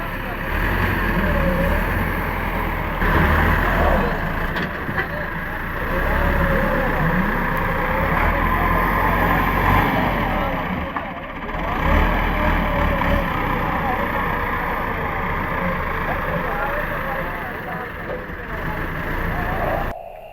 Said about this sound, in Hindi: ये जो आपने ट्रैक्टर देखा है मट्टी उठवा रहे हैं